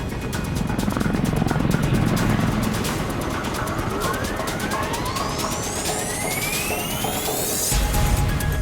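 A helicopter waiting to carry people away from a nuclear test blast hums steadily with a dense rotor and engine drone, loud and continuous throughout, with rising whining tones sweeping over it.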